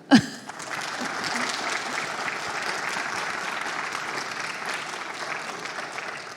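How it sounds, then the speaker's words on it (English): An audience applauds at a church seminar on marriage, a full, even round of clapping that begins with a sharp knock and keeps a steady level to the end. "I think it would be good to thank them by giving them a good clap."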